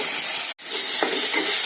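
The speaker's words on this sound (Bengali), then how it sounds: "দিয়ে আলু পেঁয়াজ আর টমেটো দিয়ে ভালো করে ভাজতে দিয়েছি" Potatoes, onion and tomato fry in a wok after a green chilli tempering, giving a loud, continuous close sizzle with a brief break and faint stirring scrapes.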